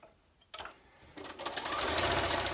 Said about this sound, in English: We can go ahead and sew that piece on right there.